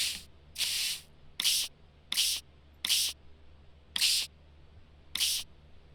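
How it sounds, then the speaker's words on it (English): Seven short bursts of spraying as fossils are hosed down with a cleaning solution in a dinosaur fossil hunting video game, each hiss lasting under a second, evenly spaced and crisp over a faint steady hum. "now you spray down the fossils with a solution"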